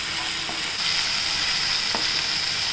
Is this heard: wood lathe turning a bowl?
no